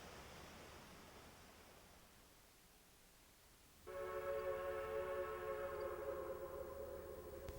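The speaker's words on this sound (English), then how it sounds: "The empty train highballs back to Eatonville for another load." A rock train's horn sounds loudly and steadily midway through, over a continuous low rumble of the empty train rolling along the rails.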